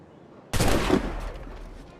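A single sharp gunshot cracks loudly in the Assassin's Creed video game and then decays into a short rumbling echo.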